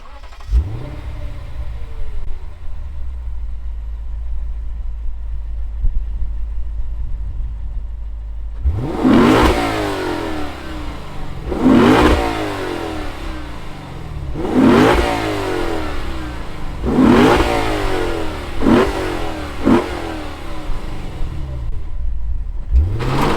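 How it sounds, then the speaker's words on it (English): A 2020 Lexus RC F Track Edition V8 idles with a deep rumble through its titanium exhaust, then revs hard repeatedly, five or six sharp rising blips with raspy exhaust crackle between them. "Let's hear what the V8 sounds like out of that titanium exhaust."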